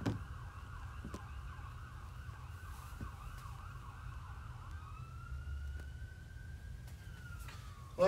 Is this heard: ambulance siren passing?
yes